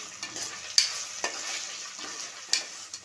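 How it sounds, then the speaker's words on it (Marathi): Grated fresh coconut sautés with ginger-garlic paste for a Marathi moong dal khichdi, a continuous sizzle broken by sharp spoon scrapes and taps against the pan, close and clear with no talk. "यामध्ये आता आपल्याला आलं लसूणची पेस्ट एक चमचा घालायचे आणि परतवून घ्यायचे"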